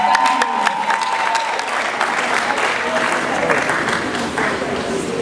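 A conference audience at the University of Uyo claps steadily, dense applause that starts strong and carries on for several seconds, with a voice talking over it near the start.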